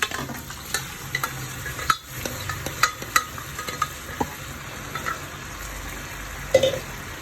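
Boiled squid tossed and stir-fried in a pan with red chilli sauce, a steady close sizzle broken by sharp scraping clicks of a spoon against the pan, with no voices.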